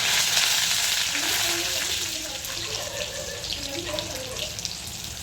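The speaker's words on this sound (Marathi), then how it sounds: "थोडंसं मस्त लसूण थोडंसं मस्त भाजला ना तेलामध्ये" Garlic fries in hot oil with cumin and mustard seeds, giving a loud, dense, continuous sizzle with faint crackles throughout.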